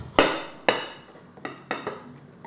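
A serving spoon scoops panettone pudding from a baking dish, giving four close clinks and scrapes of utensil against the dish in quick succession.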